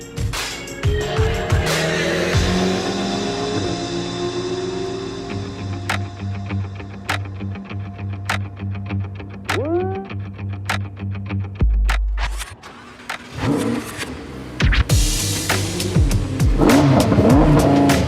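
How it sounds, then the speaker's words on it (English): A Lamborghini Huracan lapping a race track at Speed Vegas, its engine loud and close, revving hard with sharp upshifts and downshifts, rising and falling pitch sweeps, and a brief lull before it accelerates again. "we're gonna be doing 7 laps here inside the Lamborghini Huracan"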